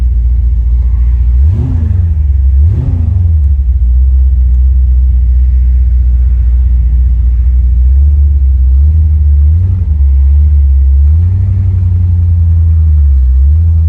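The engine of a 1978 Pontiac Firebird Trans Am resto mod rumbles at a deep, loud idle, with two sharp throttle blips early on and later swells of revving, close and steady with no talk.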